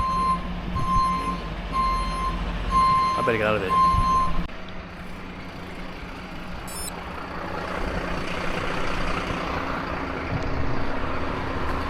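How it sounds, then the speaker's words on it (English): Garbage trucks at a bin lorry depot give steady, evenly spaced reversing beeps for several seconds over a low diesel rumble and outdoor traffic noise. Someone speaks briefly partway through, and the engine drone carries on after the beeping stops. "it's where the bin men come to pick up their lorries"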